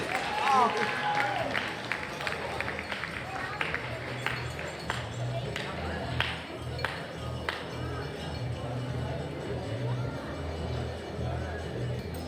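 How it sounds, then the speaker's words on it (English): Applause and crowd noise at a grand wedding reception, a round of clapping for the best man, steady and sustained through the whole stretch, with murmuring voices mixed into the room. "let's hear another big round of applause for our best man"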